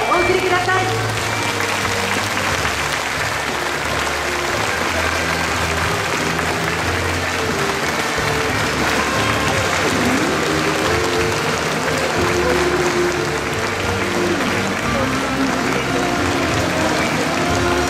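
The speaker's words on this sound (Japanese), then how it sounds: "改めて大きな拍手でお送りください。" Sustained, dense applause from an audience at the Flower Dream 2012 final as the finalists leave the stage, loud and steady for the full length, with a voice faintly present beneath it.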